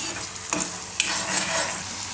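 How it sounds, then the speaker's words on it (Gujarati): A cheese garlic rotli mixture roasts in a pan with a soft, steady sizzle, while a spoon scrapes and stirs it in two brief, clear strokes. "તો થોડીક વાર આનામાં શેકી લઈએ, એકાદી મિનિટ માટે."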